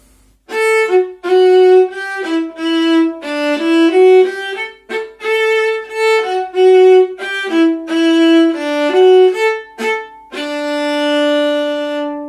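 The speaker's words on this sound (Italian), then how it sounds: "Questa è la viola, è un po' più grande del violino" A viola, a bowed string instrument a little larger than a violin, plays a solo melody of sustained, clearly separated notes with rich harmonics, close and loud, ending on a long held tone, with no talking.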